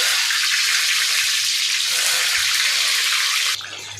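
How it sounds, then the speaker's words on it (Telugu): Eggplant slices deep fry in hot oil on a medium flame, producing a loud, dense, even hiss of bubbling that drops suddenly to a quieter level near the end. "ఇప్పుడు వచ్చేసి వీటిని డీప్ ఫ్రై చేద్దాము"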